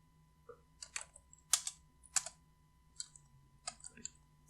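Keys on a computer keyboard are typed in short, quiet bursts of sharp clicks with brief pauses between them, heard close up with no speech.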